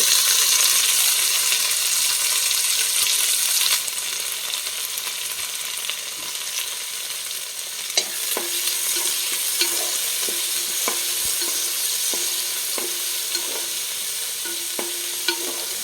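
Tomatoes frying in a pan for a roasted-coconut chicken curry, a steady close sizzle that runs throughout, joined partway through by repeated light clinks of a spoon stirring against the pan.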